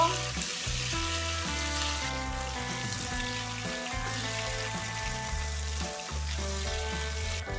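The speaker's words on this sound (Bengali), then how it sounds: "এই পটলগুলো খুব ভালোভাবে ভেজে নেব" Steady, loud sizzling of pointed gourd frying in hot oil, with a continuous crackle and no talking.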